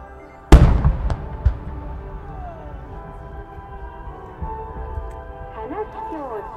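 A sharp Japanese festival firework bang in Tsuruga followed by a few smaller pops, then a crackling, sizzling tail under faint background voices.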